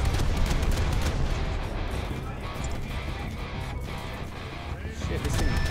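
Naval guns on a Soviet POTI-class ASW corvette in a video game fire in rapid, uneven bursts, a dense rattling barrage over a low rumble that runs throughout, with a voice talking faintly beneath.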